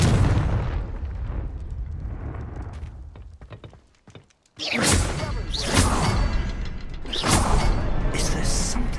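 A Confringo fire spell in Hogwarts Legacy bursts with a loud, booming explosion after a brief lull, followed by several more crackling blasts and rumbling debris, with a voice shouting the spell just before.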